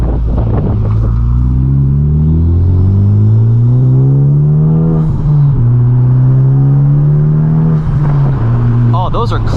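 A Honda Civic Type R FK8 with a manual gearbox and aftermarket shift boot collar drives hard, its engine loud and close, rising through revs with brief dips at each gear shift, under steady wind noise.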